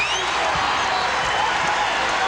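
Basketball arena crowd at an NBA Finals game in Seattle, a dense, roaring wash of cheering and shouting that fills the space continuously at a loud, even level.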